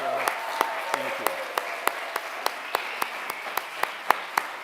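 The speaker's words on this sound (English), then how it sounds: "can we elect them with a round of applause?" A small gathering at an Episcopal church parish meeting gives a round of applause, with a soft bed of clapping punctuated by sharp, evenly spaced claps that keep a steady rhythm throughout.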